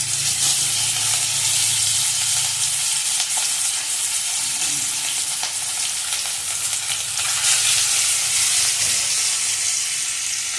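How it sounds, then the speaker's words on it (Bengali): Fish sizzle hard in hot oil with chili, a loud, dense, unbroken crackle and hiss with no voices. "মাছ ভাজা হবে, খাওয়া হবে।"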